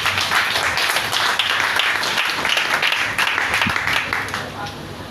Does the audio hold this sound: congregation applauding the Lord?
yes